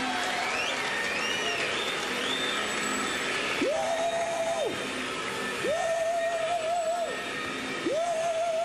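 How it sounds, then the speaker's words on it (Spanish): A vacuum cleaner whirs on a theatre stage during a live Flintstones-themed telethon show, surging in three repeated drawn-out bursts over steady audience and hall noise. "¡Ay, es que no escuchaba por el ruido de la aspiradora!"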